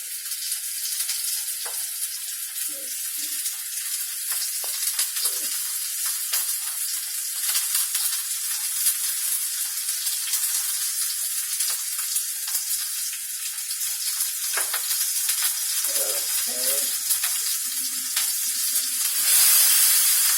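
Stuffed chicken breasts frying in a hot skillet, a loud, continuous close sizzle with hissing spatter and occasional faint clinks of tongs.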